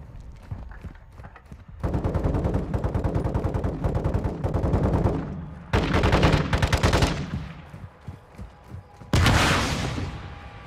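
Gunfire in the video game Call of Duty Modern Warfare 2 comes in several loud bursts of rapid automatic shots, separated by short quieter gaps, with no talk.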